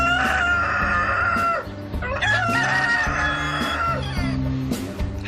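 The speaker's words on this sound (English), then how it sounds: "I think there's 4 chickens and 2 cockerels" Cockerels crow loudly and repeatedly while chickens cluck in a busy backyard flock of several hens and two roosters, with overlapping calls close by and no pauses.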